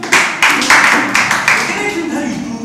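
Children at a kids' church camp clap together in quick rhythmic bursts, loud and close at first, then fading over a couple of seconds as a murmur of voices lingers underneath.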